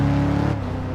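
An Aston Martin DB9 in Test Drive Unlimited 2 holds a loud, steady engine drone with strong humming harmonics that dips slightly in pitch partway through, with no talk over it.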